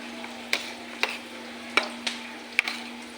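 Masala for a boal fish curry with curd being fried and stirred in a pan with water, a soft steady sizzle broken by five or six crisp spatula taps at uneven intervals, close and without talking.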